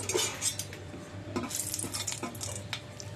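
Dried red chillies fry in hot oil in a pan for a fish dish, with a light sizzle broken by irregular clinks and scrapes of a utensil against the metal, close by and without speech.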